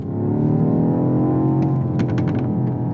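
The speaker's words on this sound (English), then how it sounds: "I must talk about the sound because this car sounds so good. I do love this new exhaust." BMW M5 Competition exhaust note, a loud, sustained, throaty drone held steady for a few seconds with some crackles near the end, no talk over it.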